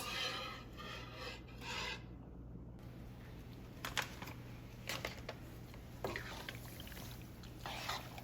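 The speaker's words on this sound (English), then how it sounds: "So we're just gonna whisk this until it comes to this creamy consistency" A whisk scrapes and rasps through a thick cheese sauce for lobster mac and cheese, making quiet, steady rubbing strokes in the pan.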